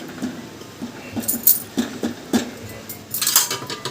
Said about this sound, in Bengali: এবার এর মধ্যে ইলিশ মাছের মাখানো টিফিন কৌটোটা ঢুকিয়ে দিচ্ছি